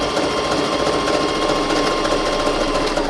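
A sewing machine runs steadily while stitching a fabric face mask, a close, loud, continuous whirring chatter with no breaks.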